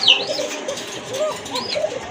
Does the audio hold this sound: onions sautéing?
no